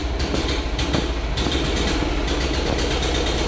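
A restored BMW Isetta's small engine runs steadily with the throttle worked by knee, a continuous rough mechanical drone with rattling texture and a few brief surges in level, close and loud throughout.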